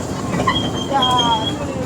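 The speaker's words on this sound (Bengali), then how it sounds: "এই হচ্ছে আপনাদের জন্য টয় ট্রেনের উপহার" A toy train at Kajol Dighi Park, New Digha, rolls along with a steady rumble and brief high metallic wheel squeals, close by, over a couple of seconds.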